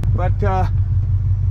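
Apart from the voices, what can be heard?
car engine running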